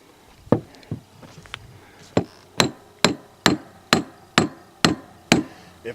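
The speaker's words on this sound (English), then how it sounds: "Probably need a chipping hammer." Chipping hammer striking rock in the Badlands, a series of about ten sharp, loud knocks, spaced irregularly at first and then settling into a steady rhythm about half a second apart.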